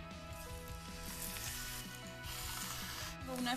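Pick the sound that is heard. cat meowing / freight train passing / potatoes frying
potatoes frying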